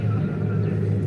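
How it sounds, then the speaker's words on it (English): Road traffic rumbles steadily nearby, a continuous low drone of passing cars with no distinct breaks, heard outdoors alone. "Traffic's a little bit loud."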